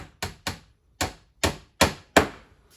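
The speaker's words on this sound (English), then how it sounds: "I'm countersinking these nails a little bit so they sink in just a little bit" Six sharp hammer blows drive nails below the surface of wooden corner pieces. Each crisp, close knock stands alone in a loose, uneven rhythm with quiet gaps between strikes.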